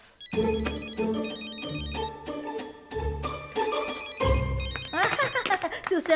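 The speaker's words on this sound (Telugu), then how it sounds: "రింగింగ్స్." A phone ringtone plays loudly with repeating melodic tones, a few short gaps between phrases, ending in a brighter warbling section.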